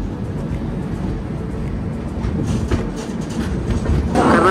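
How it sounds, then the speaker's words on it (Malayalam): The Karnataka Express approaching Khandwa Junction in Madhya Pradesh, heard from inside: a steady loud rumble with rhythmic clickety-clack of wheels over rail joints, growing slightly louder toward the end. "നമ്മളിപ്പം മധ്യപ്രദേശിലെ ഖണ്ഡുവ ജംഗ്ഷൻ എന്നൊരു റെയിൽവേ സ്റ്റേഷനിലേക്ക് നമ്മൾ അടുത്തുകൊണ്ടിരിക്കുകയാണ്"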